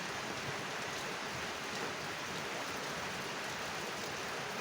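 Continuous rain pouring outdoors at a fish-grilling meal, an even, unbroken hiss at moderate-low level, heard alone with no voices.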